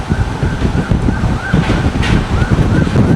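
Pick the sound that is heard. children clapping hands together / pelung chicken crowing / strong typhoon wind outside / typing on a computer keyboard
strong typhoon wind outside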